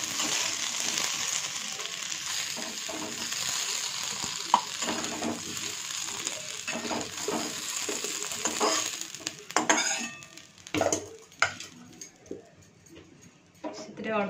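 Potatoes frying in hot oil, with a continuous close sizzle and repeated scraping stirs of a spoon against the pan, the stirring growing more vigorous toward the end, as a voice talks over it.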